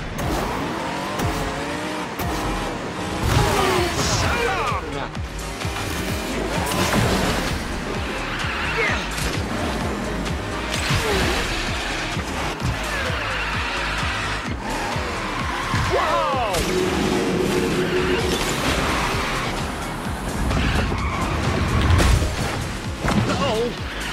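Race cars in the Disney Speedstorm game, engines whining and revving steadily with tire squeals and occasional impacts, loud and continuous, while character voices speak over the racing.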